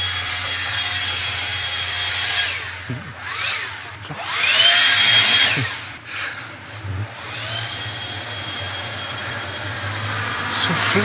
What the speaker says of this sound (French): Tiens, il est là, le souffleur.